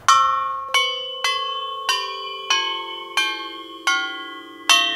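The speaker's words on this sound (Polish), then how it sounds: "To są dzwony rurowe. Każdy z tych dzwonów wydaje inny dźwięk." Tubular bells struck one at a time, eight clear metallic strikes in an even rhythm, each ringing on with a long bright decay while the pitch shifts from bell to bell; close and alone, no voices.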